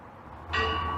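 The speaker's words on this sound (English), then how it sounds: "I just wanted to know I could ring a church bell" A single small church bell dings with a clear, sustained ringing tone that lingers over a low background rumble.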